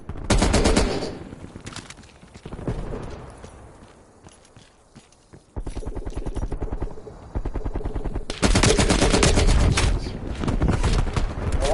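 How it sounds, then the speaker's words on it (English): Gunfire in a first-person shooter video game, with loud rapid bursts of shots near the start and end and quieter stretches of shooting between them. "Shot was good. One shot, you're dead."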